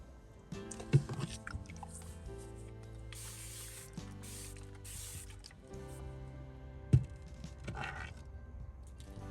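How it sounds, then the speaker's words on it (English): Several bursts of water spray hiss from a pump bottle onto a painting canvas, interspersed with clicking trigger sounds over a low background hum. "I'm gonna start with spraying down this a little bit more."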